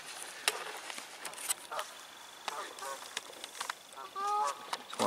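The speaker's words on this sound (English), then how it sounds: "geese are kicking off" Geese honking at night beside Phils Lake in Oxford, a few calls rising near the end over scattered clicks and rustles of a fishing camp.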